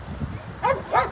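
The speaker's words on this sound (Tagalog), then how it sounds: "Ang daming aso." Several dogs barking, two short yips close together under faint background voices, heard outdoors overlooking a city in Georgia.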